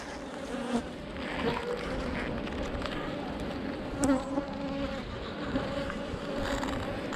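Honeybees buzzing around a hive during beekeeping work on swarming and requeening, a dense, continuous close drone of many insects with faint rustling and no clear speech.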